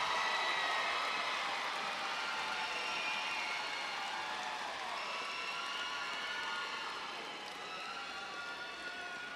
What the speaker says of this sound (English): Let's give row 9 a round of applause